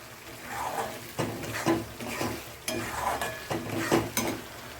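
Masala for misal fries in oil over a low flame while a spoon stirs and scrapes the pan in short, repeated, close strokes over a soft sizzle.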